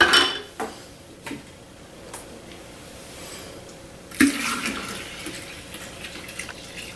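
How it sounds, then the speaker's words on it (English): Water is poured in to top off a simple home beer brew: a few sharp clinks of containers, then a quieter steady pour and splashing close by. "Now we're going to top that off with a little bit more water."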